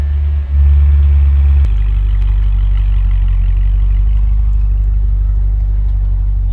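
A modified Corvette idles loudly close by, a steady deep rumble that shifts to a lower, heavier drone after a brief blip and click near the two-second mark, then holds evenly.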